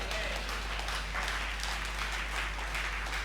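A church congregation at a Sunday service clapping their hands together, a steady wash of applause over a low hum, moderately loud and sustained.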